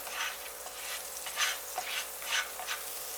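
Butter or margarine sizzling in a small round fry pan over medium heat, a steady close hiss with a few soft swirling surges as it is mixed around.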